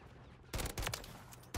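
Burst fire from an SVA 545 rifle in Call of Duty MW3, heard as quick, loud clusters of gunshots in about three bursts over a low game background.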